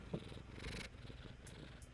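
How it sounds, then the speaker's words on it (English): A cat purrs steadily and loudly up close, a continuous low rumbling rhythm with no talking. "He's purring so loud."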